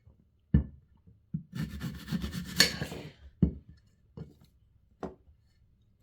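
Small apples being peeled with a knife, giving a series of short close scraping strokes and soft knocks, with one longer rasping peel in the middle, separated by quiet pauses.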